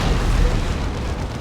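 A Baneblade battle cannon firing in Dawn of War 2, a single heavy, loud, close boom with a deep rumbling low end that fills the short moment.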